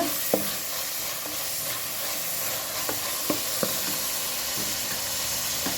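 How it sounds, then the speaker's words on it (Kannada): Ginger and tomato being stirred in a cooking pan for a cauliflower gravy, a steady close sizzle under a few soft scraping clicks of the spoon against the pan. "ಚೆನ್ನಾಗಿ ಮಿಕ್ಸ್ ಮಾಡುವ"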